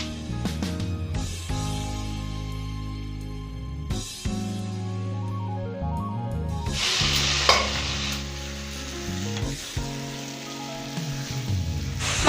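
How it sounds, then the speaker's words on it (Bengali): Chicken pieces for biryani fry and get stirred in a pan, giving a steady close sizzle broken by repeated scraping strokes of a spoon, with no talk. "মাংসটা আমি এভাবে কিছুক্ষণ কষিয়ে নেব, 4-5 মিনিটের মতো।"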